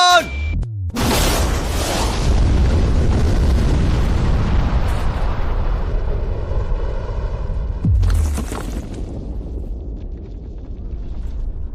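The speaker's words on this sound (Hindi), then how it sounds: "लेकिन ये एक असली धमाका है" A real large explosion goes off with a sudden massive boom, followed by a long roaring rumble that slowly fades, then a second sharp blast near the end trailing into lingering rumble.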